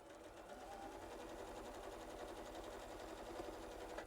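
A long-arm sewing machine stitches a quilt inside a school bus, its needle running in a steady, fast, continuous rhythm at close range for the whole stretch, with no talking over it.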